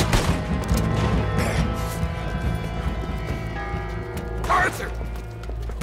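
Gunfire from guns in Red Dead Redemption 2, several sharp shots scattered through the clip along with hoof clatter and mechanical clicks, heard under ongoing voices.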